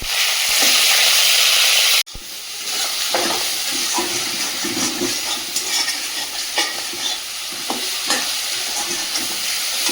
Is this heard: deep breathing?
no